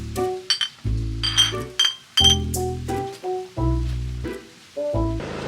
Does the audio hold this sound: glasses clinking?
yes